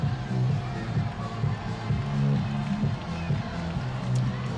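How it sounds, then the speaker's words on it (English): Crowd noise at a high school varsity football game between Mattawan and Grand Ledge, a steady broad roar of many voices swelling and rising under louder band music, with no single voice standing out. "crowd rising back up, and here comes the energy"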